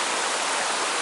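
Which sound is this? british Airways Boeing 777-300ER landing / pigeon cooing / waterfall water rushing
waterfall water rushing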